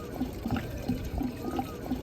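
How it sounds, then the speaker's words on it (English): Fuel being poured into a sailing boat's tank from purchased fuel containers, a faint steady liquid gurgle with small rhythmic glugs, close and continuous with no talk. "filling up our tank with fuel that we had purchased at the Corfu marina before leaving"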